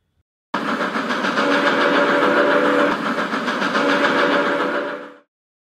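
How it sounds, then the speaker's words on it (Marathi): A freight train's whistle sounds at a spot where two rail tracks meet, one loud, steady blast held for about five seconds before cutting off, with no voices. "त्याला मालगाडीची शिट्टी ऐकू आली."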